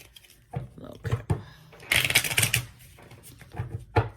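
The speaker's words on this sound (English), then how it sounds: "I'm trying to shuffle this at the same time." A deck of cards is shuffled in quick riffling bursts and soft slaps, close and moderately loud, between brief stretches of talk from one person.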